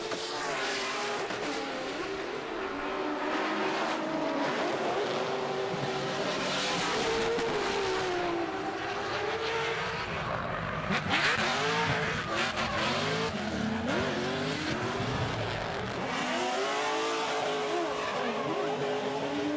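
Drift car in a Pro-Sport 235 class top-16 battle at Pukekohe, D1NZ round, driven by Gary White: continuous loud engine revving with rising and falling pitch sweeps as the throttle is worked, tyre noise underneath, sustained throughout.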